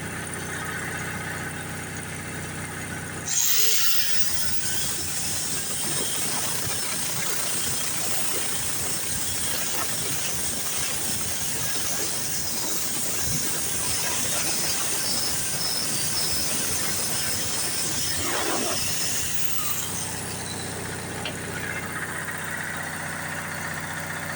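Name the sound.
steam hissing from Onan 4 kW generator motor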